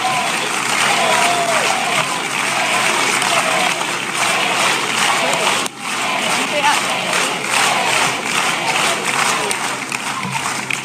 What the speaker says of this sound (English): I like this cheering because it makes the next part easier